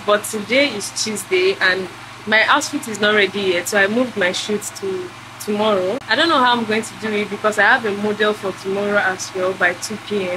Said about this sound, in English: I'm so sorry about the gen noise